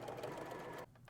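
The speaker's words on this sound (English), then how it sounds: "And then continue to sew." Sewing machine stitching layers of fabric for a zippered pouch, a steady rapid motor whir running close and continuous, then briefly slowing near the end.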